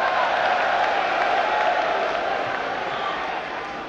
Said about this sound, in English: I do not think it deserves clapping